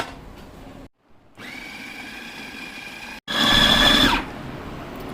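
Electric grinder whirring as it grinds minced meat with lemon juice, a steady motor drone that stops briefly and restarts, rising to a louder, higher-pitched whine near the end before settling.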